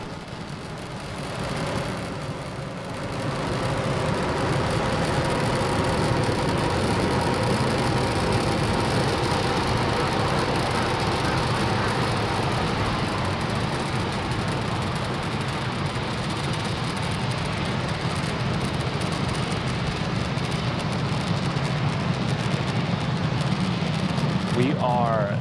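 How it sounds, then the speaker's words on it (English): SpaceX Falcon 9 rocket engines thunder through launch ascent, a loud continuous broadband roar that holds steady throughout, with a launch commentator's voice faintly beneath. "Falcon 9 has cleared the tower and is currently throttling down to prepare for max Q"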